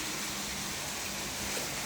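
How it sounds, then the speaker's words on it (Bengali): Steady rain pouring down in a home garden, a broad even hiss with no pauses, moderately close and fairly quiet. "দেখুন কি বৃষ্টি।"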